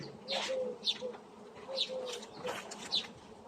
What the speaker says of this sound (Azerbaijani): Yeşik yerini dəyişdik, artıq oradakı arılar başlayacaq gəlməyə.